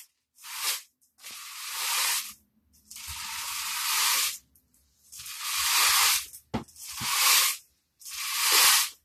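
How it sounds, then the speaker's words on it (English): Rice rattling inside a cardboard paper towel roll, shaken in five long hissing bursts separated by short pauses, like a rush of rain. "our paper towel roll filled with rice, do you think it sounds like rain that Miss Alina showed you"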